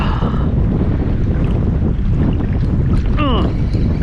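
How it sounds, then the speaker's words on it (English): Strong wind blows hard across the open ocean around a fishing kayak, a steady loud roar buffeting the microphone throughout, with a brief whistling sweep near the end. "The problem is the wind is blowing so hard, it's bagging the line."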